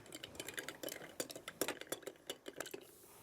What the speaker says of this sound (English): we just give that a stir